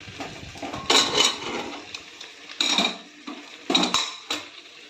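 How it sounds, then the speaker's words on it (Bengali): Metal lid clanking and clicking into place on a pressure cooker while cooking ilish fish, a handful of sharp, close clatters with short pauses between them. "এবার প্রেসার কুকারে ঢাকনা আটকে 10 মিনিটের জন্য এটা রেখে দেবো।"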